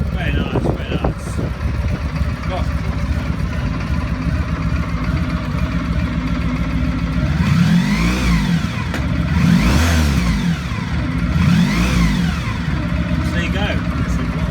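A Honda Pan European ST1100 motorcycle engine starts and idles, then revs up and down three times in rising and falling sweeps, with people talking over the steady rumble.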